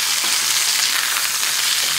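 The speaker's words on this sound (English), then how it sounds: "Y'all can hear it sizzle." Bacon frying in a pan gives a dense, continuous crackling sizzle, close and steady, with no voices.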